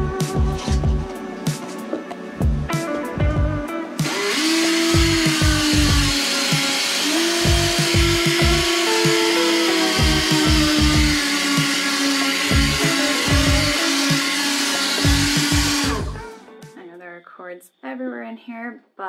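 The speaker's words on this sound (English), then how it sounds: "Matt used the 300 and something grit sandpaper here" A power tool sands a boat interior with 300-grit sandpaper, a loud steady whine running for about twelve seconds before stopping, while a person talks over it.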